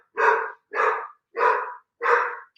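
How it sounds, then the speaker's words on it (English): An angry dog barks four times in an even rhythm, each bark sharp and separated by brief silence, fairly close and alone. "Oh, King Dog is so mad."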